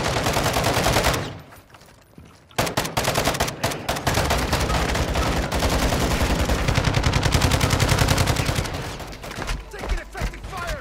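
Video game gunfire in a shooter, loud rapid automatic bursts crackling close, briefly pausing before resuming in long sustained volleys that taper into scattered shots toward the end.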